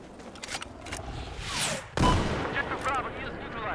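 Gunfire and explosive blasts from the video game Battlefield 4, a burst of shots followed by a sharp loud boom midway, with excited talking over the action.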